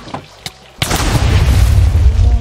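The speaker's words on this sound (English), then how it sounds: "the Aqua Creepers explode only if I strike them" An Aqua Creeper exploding in the game Craft of Titans: a few light pops, then a sudden loud boom that rolls into a sustained rumbling burst.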